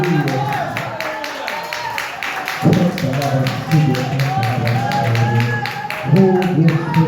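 A church congregation claps steadily along during a family worship service, the rhythmic claps loud and continuous under voices and music throughout.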